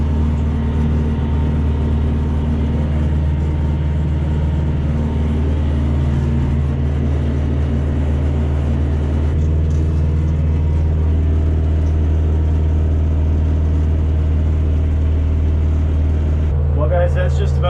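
A Kioti tractor engine hums as it pulls an MK Martin 784 box blade to crown a lane. The low, steady mechanical drone stays loud and close, with slight shifts in pitch near the end.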